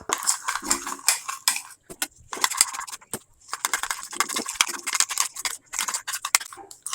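Spoon clinking and scraping against a cup or bowl while cocoa powder is stirred into a little milk, in quick, uneven bursts with short pauses, close and fairly loud, with no talking.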